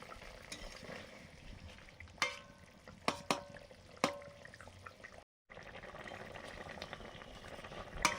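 Snakehead fish sour curry with raw mango and green chilli bubbles steadily in a pot, with a few sharp utensil clicks and taps over the continuous simmering hiss.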